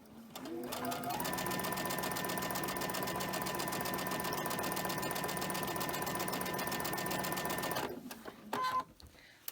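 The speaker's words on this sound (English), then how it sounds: "I'm just going to go ahead and chain stitch this next batch" Sewing machine chain stitching a batch of quilt pieces, a loud continuous whirring run lasting several seconds before stopping, followed by a few handling clicks.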